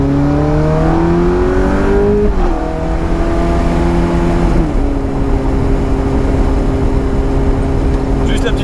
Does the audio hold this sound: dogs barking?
no